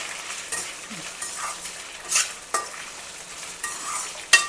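Peanuts stirred and roasted in a pan, with repeated scraping strokes and rattling bursts every second or so over a low sizzle, close and clear with no voices.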